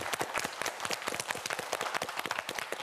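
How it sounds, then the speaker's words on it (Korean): A studio audience at a televised student quiz show breaks into brisk, dense clapping, many hands together at a steady pace for a few seconds. "우리 서영민 학생에게 큰 박수 부탁드립니다"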